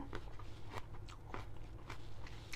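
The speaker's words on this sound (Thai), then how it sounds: "นี่กินกับแบบแครอทสดๆนะอืมกรุบกรับกรุบกรับ" Fresh raw carrot is crunched alongside a spicy Thai rice noodle salad, giving a series of quiet, close, crisp bites and chewing crunches at an uneven rhythm.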